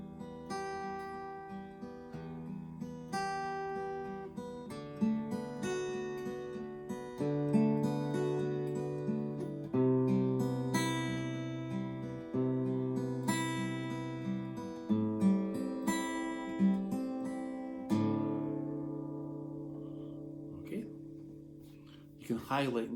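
A solo nylon-string guitar plays a slow fingerpicked phrase, notes ringing and overlapping, ending on a sustained chord before a brief pluck.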